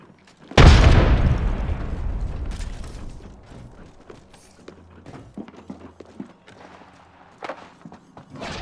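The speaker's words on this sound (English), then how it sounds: "Frag grenade sent." A frag grenade detonates in a battle royale video game with one loud, close boom that decays into rumbling debris, followed by faint clicks and footstep-like mechanical sounds.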